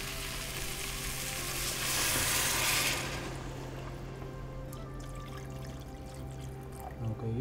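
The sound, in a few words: pouring pork stock into cooking pot for sinigang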